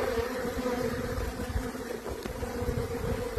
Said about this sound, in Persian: یه سلخ زنبوره، یه نونکش، یه نونکای زنبوره